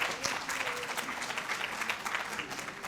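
A luncheon audience applauds award honorees at a volunteer recognition event, steady dense clapping from a room full of people filling the moment, with faint murmurs mixed in.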